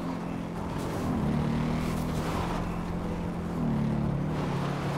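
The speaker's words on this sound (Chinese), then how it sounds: "从军事基地拿到这台机车的马力还真的是不错哦" Motorcycle engine in GTA5, a bike taken from a military base, droning steadily with low, slightly shifting pitch as it rides uphill, continuous and moderately loud.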